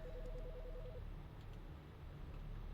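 An electronic telephone rings in the game Autopsy Simulator, a warbling trill for about a second and then silence, faint over a low steady hum.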